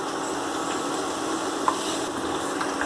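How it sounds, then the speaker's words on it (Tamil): Chillies and spices dry-roast together in a pan, making a continuous soft hiss with light scraping. The sound is close and even, with one faint click partway through. "எல்லாத்தையும் வந்து ஒன்றா போட்டு நாங்கள் வறுக்கிறோம்"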